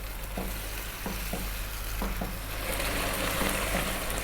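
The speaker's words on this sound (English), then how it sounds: "give it a stir every now and then" A simmering pot of food is stirred, with spoon scrapes repeating roughly every second over a steady bubbling hiss, close and moderately loud, with no talking.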